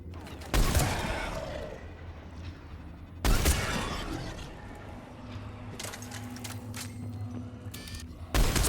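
Bursts of gunfire crack out during a firefight in Mass Effect, several loud volleys spaced apart with rattling shots and booming impacts between them, while a low engine hum drones underneath.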